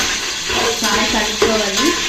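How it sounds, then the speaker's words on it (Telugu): Cut green chillies dropped into hot oil for a Telugu fish curry, a brief close sizzle with spatula scrapes against the pan, with faint speech-like tones in the background. "ఆయిల్ బాగా వేడైంది కదా, ఇప్పుడు కట్ చేసుకున్న పచ్చిమిరపకాయని వేసుకోవాలి."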